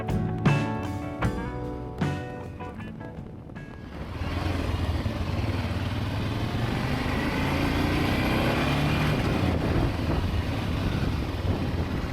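A 20-year-old 650 motorcycle on a road trip toward Acadia National Park; after a few seconds of tonal clatter, a steady engine and wind roar holds for the rest of the clip, fairly even and moderately loud, with no voices.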